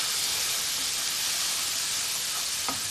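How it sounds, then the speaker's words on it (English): Steady broadband hiss of ginger garlic paste frying hard in hot oil on the highest heat, a continuous close sizzle with no pauses. "Just going to sizzle that off"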